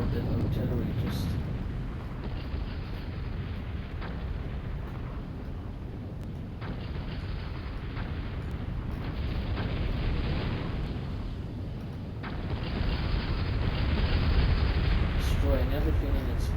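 Constant rumbling artillery fire and explosions from a 4vs4 strategy game battle on the Greenfields map form a dense, steady barrage. The booms overlap with no clear gaps, and faint chatter sits in the background.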